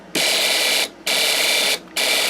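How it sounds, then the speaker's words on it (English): A Snap Circuits alarm IC pulses through a small speaker switched by a relay: loud, shrill electronic tone bursts repeating in a steady on-off rhythm, three pulses alone without talk. "our relay, our alarm IC pulses, which we hear through our speaker"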